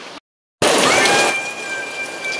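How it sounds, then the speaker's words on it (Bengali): Heavy rain pours in a dense, loud, steady roar that starts abruptly after a moment of silence, with a few faint thin tones above it. "দেখো কত জোরে বৃষ্টি এসেছে"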